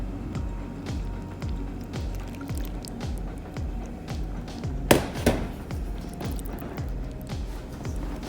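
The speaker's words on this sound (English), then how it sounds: "we're just going to stir that with a spatula until our dough comes together" A spatula stirs flour and liquid into pizza dough in a bowl, producing steady, rhythmic, close-up squishing strokes that repeat throughout with a couple of sharper knocks midway.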